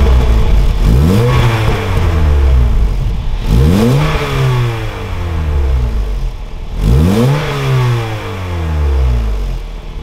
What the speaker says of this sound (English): Let's see if we can hear the exhaust.